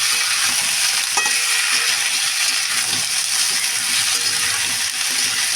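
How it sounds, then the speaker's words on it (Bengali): Vegetables — cauliflower, kohlrabi and potato with slit green chillies — stir-frying in a pan, a steady loud sizzle with occasional scraping stirs, close and continuous with no voices. "ভালো করে সবজিটা একটু কষিয়ে নিই, যাতে কাঁচা গন্ধটা না বেরোয়।"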